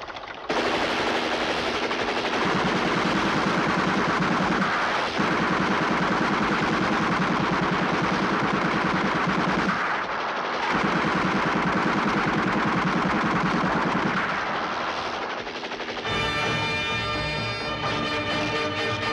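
Sustained, dense rapid-fire gunfire pounding loudly and continuously, with a couple of brief breaks, then a burst of ringing, shimmering tones near the end.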